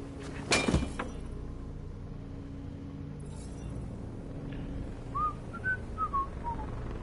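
A person whistles a Les Misérables tune during a Detroit: Become Human play-through, a faint short melodic phrase of several gliding notes that comes after a sharp clunk, with quiet game ambience behind.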